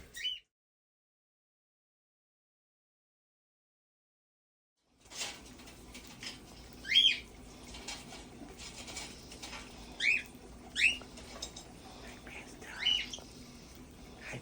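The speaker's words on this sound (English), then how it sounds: "I just want to put together a little video of me and my birds and Leanne all playing at the dining room ta" Pet cockatiels and parakeets at a dining room table give several short, bright chirps and tweets over a low room background, after a few seconds of silence.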